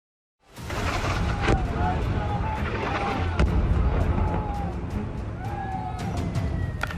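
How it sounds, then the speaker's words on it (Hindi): Several sharp distant blasts from Israeli strikes in Lebanon punctuate a noisy outdoor scene, with thin whistling tones drifting over a constant rumbling background. "लेबनान में धमाके हो रहे हैं"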